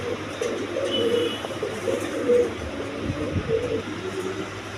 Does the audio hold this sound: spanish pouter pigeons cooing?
yes